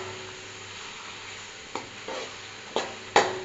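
Onions frying in a pan as they are browned with garam masala and cumin, a soft steady sizzle broken by four sharp scraping stirs near the end, with no talking.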